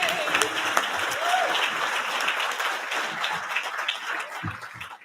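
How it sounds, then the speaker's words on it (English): Sustained audience applause at an evening charity party event, dense and steady clapping throughout with faint voices mixed in. "So big round of applause for them."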